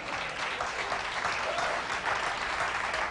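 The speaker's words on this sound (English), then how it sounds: "Ladies and gentlemen, please give yourselves a round of applause." A late-night talk show studio audience breaks into dense, steady applause that stays loud and continuous for the whole stretch, with no voices over it.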